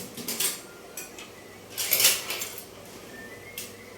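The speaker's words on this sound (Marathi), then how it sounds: "त्या मस्तपैकी असे मॅशही होत आहेत." Utensil clinks and scrapes against a pan while boiled vegetables are mashed for pav bhaji, a few short irregular metallic taps, soft and close.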